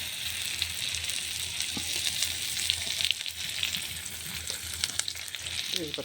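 Garlic fries in hot mustard oil with a loud, steady sizzle and crackle that stays close throughout, with occasional sharper spits and a faint clink of stirring.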